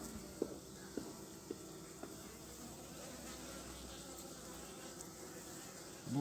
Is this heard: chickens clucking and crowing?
no